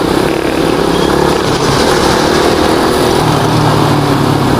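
Yamaha Sniper 150 manual motorcycle with an Akrapovic 51mm exhaust pipe, a big elbow and an RCB shifter, its engine droning loudly and steadily while riding close up, with the tone shifting slightly partway through.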